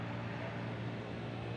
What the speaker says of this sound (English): that's all the noise you hear behind me mostly is the buses coming in